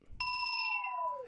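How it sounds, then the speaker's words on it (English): A single bell tone used as a sample in a hip-hop beat rings out abruptly and sustains for about a second, its pitch sliding gently downward before it cuts off, with no voices. "I took a bell shot"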